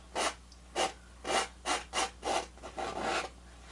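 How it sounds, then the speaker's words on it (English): Paint being scraped off a canvas with a knife while painting a mountain snow scene: about seven distinct rasping strokes in an uneven rhythm, close and quiet, the later ones running together, with no talk. "I'm going to just scrape some more of this off because we don't want a lot of paint on here"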